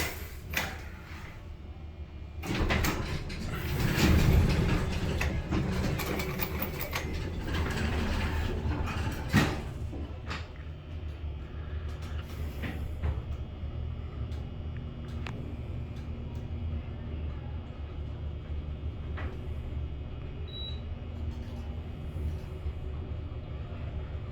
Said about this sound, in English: I really love this elevator a lot.